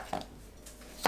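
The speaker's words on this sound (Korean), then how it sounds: "양파를 한 입 크기로 썰어주세요" A knife chops an onion into bite-size pieces on a cutting board, giving two distinct knocks about a second apart with a faint tap between them, close and quiet against a hushed kitchen background.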